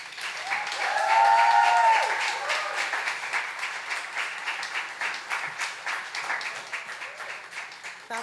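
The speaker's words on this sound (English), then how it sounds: "Let's make one more round of applause for the open mic performers." Audience applause for open mic performers at a live event, a warm burst of many hands clapping that swells early and then tapers gradually over about eight seconds.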